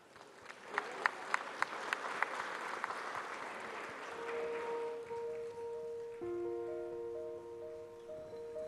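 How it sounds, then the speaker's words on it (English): At an African awards ceremony, an audience claps to welcome company representatives to the stage, with a few crisp, evenly spaced claps over the crowd at first, then the applause thins as sustained musical tones rise and carry on alone. "With a big round of applause, please help me welcome the representatives from EY Ghana"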